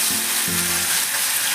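Onion frying in hot oil with garlic and cumin in a Maharashtrian Agari masala cooking pan, a steady close sizzle with a couple of brief stirring scrapes, no voices.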